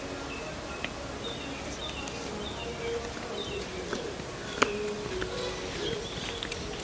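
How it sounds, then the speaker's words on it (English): Birds singing outdoors in Jamaica: scattered short chirps and whistled calls, faint to moderate, over a soft ambient background. "Listen to the birds."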